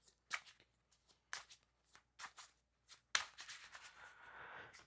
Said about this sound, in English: I take a little bit shuffling because I don't got them fancy nails like the girls do.